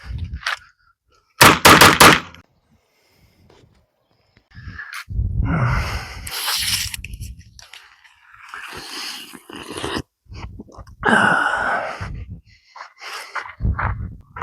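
Sharp, loud gunshots at an outdoor pistol range at Tex Shooting Club in Secunda, South Africa, a few isolated reports separated by bursts of broadband noise and rustling, close to the recorder with no talk.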